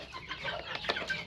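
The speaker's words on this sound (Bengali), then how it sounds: "এই আমার দেশি মুরগিগুলি এভাবে খাবারের সাথে দিয়ে দিলে, এই যে দেখেন অলরেডি তারা আসা শুরু করেছে" Desi chickens cluck in a run of short, close calls as they gather to eat feed mixed for them, with no voices over the clucking.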